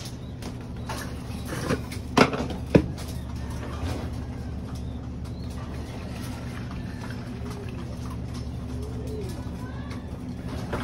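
Pet pigeons cooing softly in a backyard loft, repeated low coos over a steady background hum, with a couple of sharp knocks and faint talk nearby.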